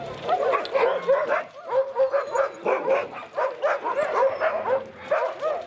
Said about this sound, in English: In the dog yard we have 60 Alaskan huskies